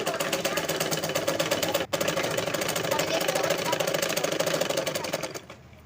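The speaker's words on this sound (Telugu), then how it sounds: "ఈ విధంగా స్టిచ్ చేయాలా చూడండి" A sewing machine stitches a V-neck on a dress made from an old saree, a fast, even mechanical clatter that runs close and steady, breaks briefly, then slows and stops near the end.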